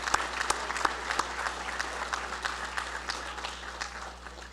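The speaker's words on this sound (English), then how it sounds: "Let's give everyone a round of applause," Audience at the AFA Hall of Fame Awards 2013 applauding the honorees, a sustained round of many hands clapping with sharp individual claps standing out, fairly quiet and heard from a distance.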